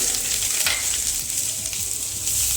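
Steady, bright sizzling of crushed ginger and garlic frying in hot oil, continuous crackle with a brief stir, no talking.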